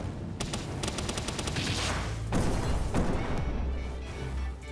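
Grenade explosions in the Palworld video game, a run of sharp crackling blasts and heavy bangs that hit close and loud in rapid succession, then fade.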